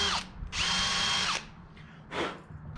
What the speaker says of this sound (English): Drilled that slightly too big.